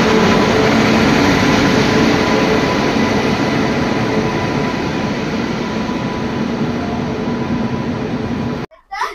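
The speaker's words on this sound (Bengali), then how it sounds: "আমরা ট্রেনে উঠে পড়েছি।" A passenger train rolls along the rails at night on a trip to Puri, a loud, steady rumble and rattle from inside the carriage that drops out abruptly near the end.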